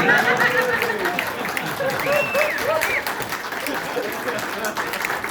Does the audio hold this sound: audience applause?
yes